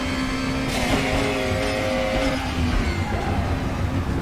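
BMW DTM race car in the RaceRoom racing game, its engine note holding a steady tone then shifting pitch with gear changes, loud and continuous under no talk.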